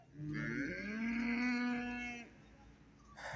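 A cow lets out one long, loud moo lasting a couple of seconds at an outdoor cattle market, followed by quieter background noise.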